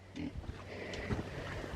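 Fattened feeder pigs in a feed pork lot give low, steady grunts and snorts close by, with a continuous muddy rumble of the animals moving throughout.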